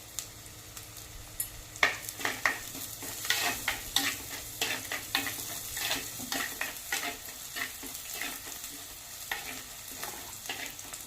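Onions and garlic sizzling in a pan while being stirred, curry leaves about to go in, with frequent scraping and clinking strokes against the sizzle, close and moderately loud.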